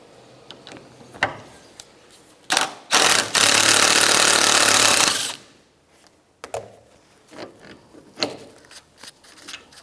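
A socket wrench spins a 16mm nut off a rear shock absorber on a 2009-2013 BMW 328i xDrive, heard as scattered metallic clicks and a sustained ratcheting whir of a few seconds in the middle, with no talking.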